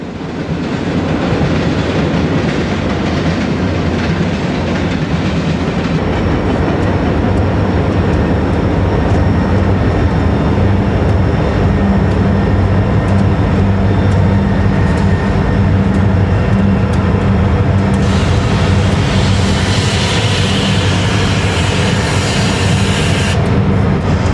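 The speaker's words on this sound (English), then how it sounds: "The two engines have been cut onto the head end of TV2H and have the train underway." A Conrail freight train with two helper engines cut onto the head end, pulling away under load near Pittsburgh, a steady loud rumble of engines and rolling cars throughout, with faint rhythmic clatter from the wheels.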